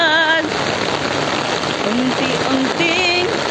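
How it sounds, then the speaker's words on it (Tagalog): Heavy rain pours onto an open, roofless car park in a dense, steady hiss, while a voice briefly calls out over the downpour near the start and end. "Sa pagpatak ng ulan"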